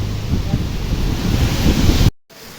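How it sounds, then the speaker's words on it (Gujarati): Strong wind buffets an outdoor farm field after a storm, a loud continuous roaring rush on the mic that cuts out abruptly near the end. "પવન એટલો છે"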